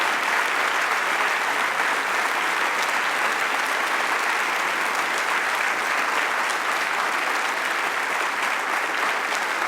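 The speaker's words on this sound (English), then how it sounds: "I ask also for your applause of thanksgiving for all of the nominees involved in this process." Steady, dense applause from a church assembly audience after a bishop's re-election at a Lower Susquehanna Synod gathering, holding evenly for about ten seconds with no break and no speech.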